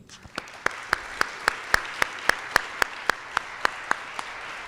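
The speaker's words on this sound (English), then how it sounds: "please join me in a round of applause to thank our graduates" An audience at a college graduation and awards ceremony applauds the graduates. Sparse applause settles into a slow rhythmic group clap with about a dozen sharp, evenly spaced beats.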